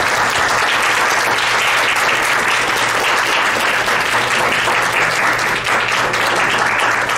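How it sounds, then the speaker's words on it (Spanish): Loud, sustained audience applause for a guest speaker at a university faculty event, a full, even roar of many hands clapping with no talk over it. "un aplauso para nuestro invitado"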